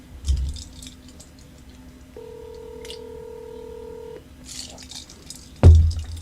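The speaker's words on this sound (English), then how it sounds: "Let's see if Matt Cundiff will pick up the phone if we call. We'll put it on speaker" A telephone on speakerphone dials out, giving a string of short dial tones and then a longer steady tone in a quiet room, with a thump at the end.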